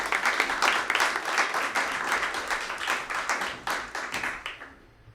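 An audience at a tech conference claps steadily for several seconds, a dense crowd of hands that thins into a few scattered claps before fading out.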